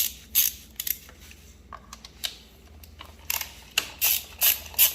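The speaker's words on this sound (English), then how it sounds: "With an 8mm socket and an extension with a ratchet, we're going to go ahead and remove two of these little bolts that hold the sprocket cover in place." Ratchet wrench turning an 8mm socket on an extension to remove small sprocket cover bolts on a Honda CT125 Trail 125 motorcycle; a scattered series of short, sharp clicks in irregular bursts, close by, with no talking.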